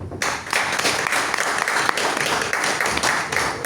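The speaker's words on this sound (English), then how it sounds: "give a big round of applause for all the participants" An audience at a Lagoon Toastmasters Club meeting in Dubai applauds the participants, a dense, steady patter of many hands clapping close by for several seconds with no pause.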